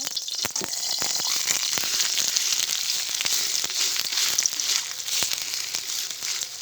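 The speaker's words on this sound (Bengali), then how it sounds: "এইভাবে অপর পাশটাও ভেজে নিতে হবে।" Spicy pitha rice cakes made with shoila leaves frying in hot oil in a pan, a continuous crisp sizzle with scattered sharp pops and crackles, close and steady with no talk.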